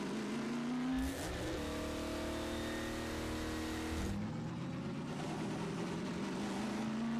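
A car in the video game Half-Life 2 Episode 2 drives along with a steady engine drone that rises and shifts in pitch as it revs and accelerates, heard without any talking.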